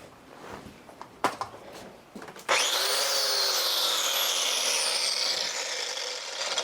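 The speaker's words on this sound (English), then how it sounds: "give that grinder a test spin" A grinder on a battery-powered welding setup spins up after a few knocks and clicks, settling into a steady, loud, high whine that holds for several seconds before easing slightly.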